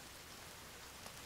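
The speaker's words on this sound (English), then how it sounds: "It's just raining" Steady broadband rain hiss from the survival game The Forest, an even, unbroken downpour with no gaps, heard alone without talk.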